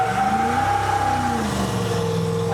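A carbureted car engine with a 650 CFM carb held at high revs during a burnout, a loud, sustained howl with steady harmonics that dip slightly, close and continuous.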